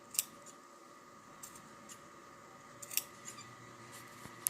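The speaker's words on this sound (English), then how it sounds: "You want to make some relief cuts all the way around." Scissors snipping small relief cuts around the stitched fabric edges of a homemade sleep mask, a string of crisp, quiet snips at irregular intervals, close up with no talking.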